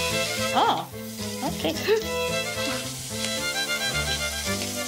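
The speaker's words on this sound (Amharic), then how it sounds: "ስቴኩ ሲጠበስ ግን እየሰማችሁት ነው" Steak sizzling and frying in a pan, a continuous crackle running under music and a short spoken word.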